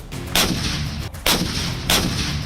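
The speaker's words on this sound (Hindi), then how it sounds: "ये तोप 15 सेकंड के अंदर 3 गोले दागने में सक्षम है।" A K9 Vajra self-propelled artillery gun fires three shells at steady intervals, each a loud sharp blast with a rumbling tail over continuous background noise.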